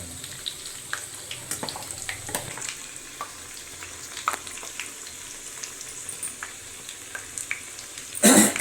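Boneless chicken pieces fry in a pan with a steady, close sizzle and scattered sharp crackles and stirring clicks, ending in a brief louder burst of noise, with no voices.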